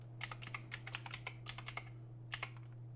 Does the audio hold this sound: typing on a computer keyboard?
yes